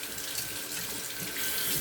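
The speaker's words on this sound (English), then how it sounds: "So I'm just going to begin lathering." A brush works bacon-scented shaving soap into lather in a bowl, a continuous soft wet swishing and frothy hiss, fairly quiet and close, with no talk.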